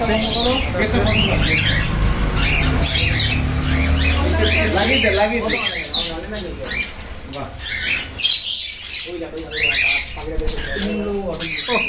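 A bird shop full of caged birds, with dense overlapping chirps, squawks and coos and occasional wing flutters, loud and busy throughout.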